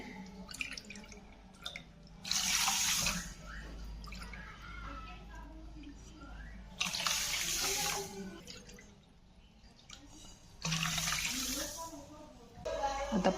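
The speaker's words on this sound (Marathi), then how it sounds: "याच वाटीने मी चार वाट्या पाणी याच्यामध्ये मिक्स करते" Water splashes and pours into a pot for rasmalai syrup in three loud bursts, each lasting a second or two, with quieter kitchen noise and faint background sounds between them.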